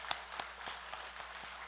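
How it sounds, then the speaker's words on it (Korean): A church congregation at a Sunday worship service claps in blessing, sounding as faint, evenly spaced sharp claps in a quick steady rhythm over a quiet room. "우리 축복의 박수 하겠습니다"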